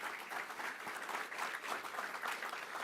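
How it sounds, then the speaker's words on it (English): A crowd at a New York State government event applauds for county legislature members, steady, faint clapping heard from a distance. "Let's give them a round of applause as well."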